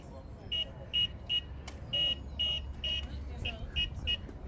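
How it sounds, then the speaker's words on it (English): A small Morse code machine beeps in short, evenly spaced high-pitched tones over a murmur of outdoor crowd noise at a VE Day event at Stirling Castle. "A wee Morse code machine that you were hearing there."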